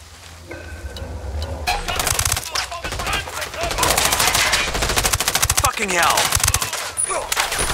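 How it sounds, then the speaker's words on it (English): Rapid automatic gunfire rips through a Ghost Recon Wildlands firefight, loud sustained bursts and scattered shots over several seconds with a voice talking underneath. "I'm opening fire on these shitheads"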